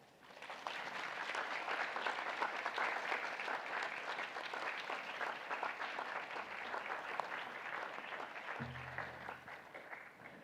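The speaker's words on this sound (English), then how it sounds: "Let's give them our warmest round of applause." Sustained audience applause at a university convocation ceremony, a dense, even wash of many hands clapping that carries on for about ten seconds, steady in loudness and heard alone.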